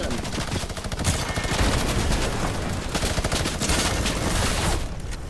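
Sustained rapid SMG gunfire in a video game, dense continuous bursts of shots running loud and close for several seconds with no talk over it.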